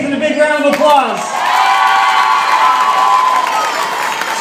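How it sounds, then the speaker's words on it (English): Crowd cheering, whoops and applause break out at a company Christmas party, starting with shouts and settling into sustained clapping and children's cheers at close range. "I want everyone to give Nathan a big round of applause."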